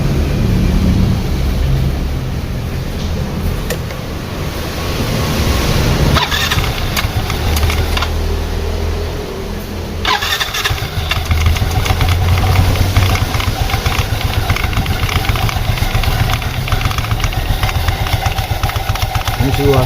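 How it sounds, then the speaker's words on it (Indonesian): A Yamaha Mio M3 125 scooter, its CVT overdue for service, starts and settles into a steady close idle with a knocking rattle from the roller housing. Loud and continuous throughout, with a rougher change partway through. "kita coba hidupkan dulu motor ini dan kita akan dengar di bagian mana suara bunyi aneh ini"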